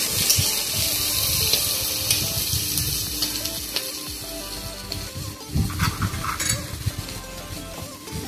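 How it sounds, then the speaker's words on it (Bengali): Chopped onion frying in oil in a pan while a spoon stirs it, a close sizzle broken by scraping and clinking strokes in an uneven rhythm, with no voices. "পেঁয়াজটা লাল লাল করে ভেজে নেব। যত সময় না ভাজা হচ্ছে এটাকে আমি নাড়তে থাকবো।"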